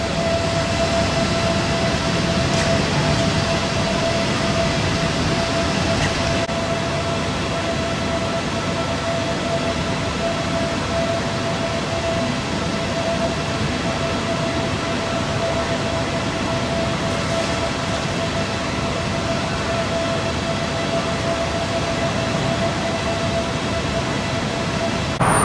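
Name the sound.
trains at Bangkok central railway station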